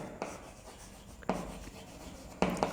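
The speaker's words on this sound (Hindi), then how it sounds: "मैं यहां पे लिखता हूं मैकेनिज्म" Marker or chalk strokes on a board as a reaction mechanism is written during a class 12 chemistry lesson, with three short, faint scratching bursts spaced about a second apart in a quiet room, and no talking.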